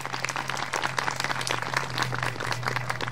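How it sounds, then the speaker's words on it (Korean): Audience applause at an outdoor Suzuki Hayabusa Day event at Chupungnyeong Station, a continuous patter of many hands clapping for the station master, fairly soft and distant, with a steady low hum beneath. "좋은 말씀해 주신 역장님께 다시 한번 뜨거운 박수 부탁드리겠습니다."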